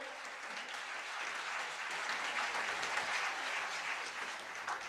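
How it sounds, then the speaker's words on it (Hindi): Steady applause from a large audience at a religious ceremony in Kunthalgiri, dense clapping that holds at an even level throughout without a break. "अरे अपने सम्मान में तो जोरदार तालियां बजाओ"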